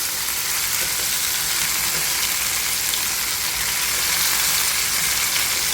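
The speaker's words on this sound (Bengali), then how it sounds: "দেখি ফার্স্টে ফ্রাই করে নিই" Very ripe whole tomatoes fry with salt in a pan for Bengali sweet tomato chutney, giving a loud, dense, unbroken sizzle that holds steady throughout with no talking.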